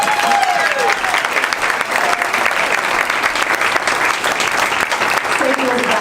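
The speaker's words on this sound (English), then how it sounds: "if we could give her a quick round of applause" A quick round of audience applause for Sadie at a school production of Pirates of Penzance, dense and loud clapping throughout, with voices talking over it.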